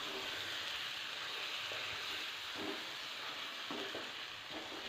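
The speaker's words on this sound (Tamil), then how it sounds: "இதை ஒரு தடவை நல்லா மிக்ஸ் பண்ணி விட்டுக்கலாம்." Kerala-style squid roast is mixed in a pan. A steady, fairly quiet sizzle runs throughout, broken by a few soft stirring scrapes at irregular intervals, with no talk.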